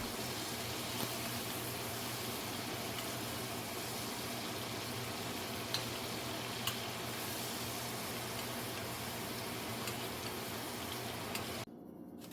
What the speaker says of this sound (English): just keep basting with a spoon